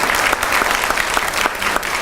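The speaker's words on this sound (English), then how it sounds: "give him a big round of applause" An audience applauds a guest at a talk event, with dense, lively clapping that stays loud and close for a couple of seconds and has sharp individual claps standing out from the mass.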